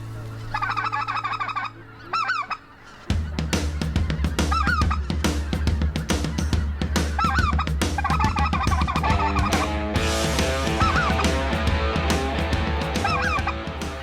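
Speckle-bellied geese honk repeatedly in a dense, overlapping chorus during an Arkansas goose hunt near Stuttgart, the calls loud and continuous after a brief opening of a few separate honks.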